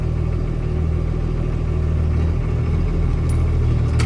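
A truck engine runs steadily at a low, rumbling idle, close and continuous, with no one speaking.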